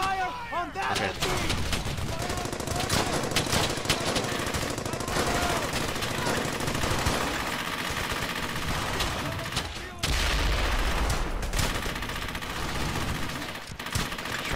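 Continuous gunfire from the World War II shooter Brothers in Arms: Hell's Highway, dense automatic bursts and heavy blasts layered over one another almost without pause, loud and close, with a brief drop before the firing resumes.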